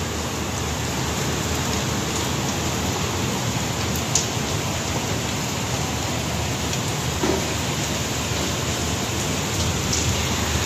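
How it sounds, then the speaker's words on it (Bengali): Steady rain falls continuously in windy outdoor weather, a dense even hiss that never lets up, with a couple of faint isolated taps and no talking. "বৃষ্টি কিন্তু হচ্ছে কন্টিনিউ। একটু সময়ের জন্য বৃষ্টির ফোঁটা পড়া বন্ধ হয়নি"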